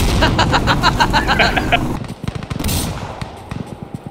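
Rapid automatic gunfire rattles in bursts in the Insurgency: Sandstorm video game, loud and close, then gives way to scattered shots and lighter clatter in the final two seconds.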